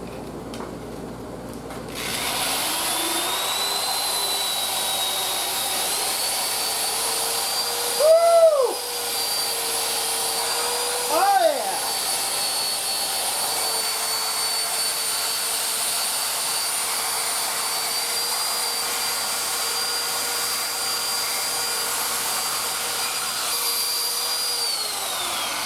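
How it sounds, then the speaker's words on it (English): Power buffing drum fitted with sandpaper spinning against an old Amplion horn speaker, a steady whining motor drone with two short rising-and-falling pitch swoops as the abrasive bears down, close and continuous. "It's a buffing drum with sandpaper on it."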